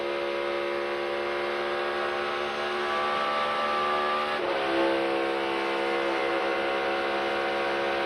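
A NASCAR race car at the 2022 All-Star Race screams at high revs, its engine note holding steady then dropping sharply on a sequential-gearbox downshift about halfway through before climbing again, loud and close with no talk.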